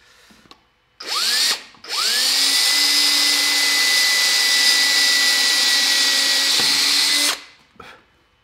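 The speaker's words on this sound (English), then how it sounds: "is to drill all of our internal cuts" Power drill boring holes through wood for scroll saw internal cuts, with a brief spin-up followed by a loud, steady high whine for several seconds before winding down.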